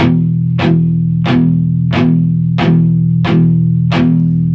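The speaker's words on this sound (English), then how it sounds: "letting it ring out, you get like a chugging sound." Loud electric guitar playing a palm-muted open E, a low, chunky note struck about every half-second, each hit dampened quickly into a steady muted chug.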